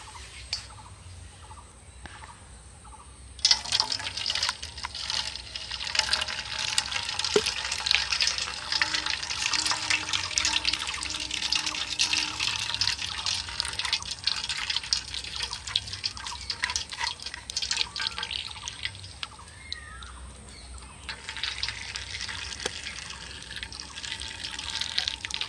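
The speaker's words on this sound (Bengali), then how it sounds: "এইভাবে আমি পুরো পেস্টটাকে ছেঁকে নেব।" A liquid potato paste mixture is strained into a bowl, with a steady, soft trickling and dripping of liquid through a strainer that sets in after a few seconds and carries on at low level with small clinks.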